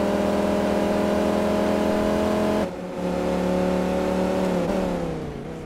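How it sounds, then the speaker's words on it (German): A Bugatti La Voiture mod car in Farming Simulator 19 accelerates with a loud, steady engine drone. There is a brief dip partway through, then the pitch climbs and eases off again. "Ich gebe einfach mal hier Gas"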